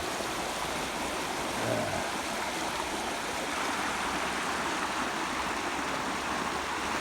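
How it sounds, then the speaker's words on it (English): Swift creek water rushing after about an inch of heavy rain near a pasture bridge, a steady broadband roar that stays dense and continuous throughout at close range, with no voices. "swift water."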